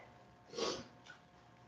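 A single brief wet sniffle, close and fairly soft, followed by a fainter second sniff against quiet background.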